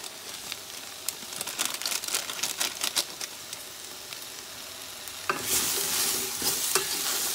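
Vegetables fry in a pan for ground turkey chow mein with seasoning, giving a crackling sizzle and scraping stirring clicks, then swelling into a louder, steadier sizzle as more goes in.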